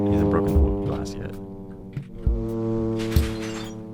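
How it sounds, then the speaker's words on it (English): In a zombie horror video game, a zombie smashes through glass, producing sharp thuds and crashes over a droning, tonal game soundtrack, loud and close. "Okay, he broke the glass."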